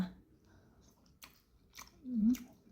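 Close, soft chewing of stir-fried pork with yellow chili and eggplant, a few moist bites and crunches, with a brief murmur partway through.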